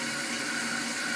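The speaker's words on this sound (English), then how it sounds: "I'm running water on the outside through the middle of the chicken." Cold tap water runs steadily in a kitchen sink through the inside of a whole raw chicken, a continuous close rushing stream with no pauses.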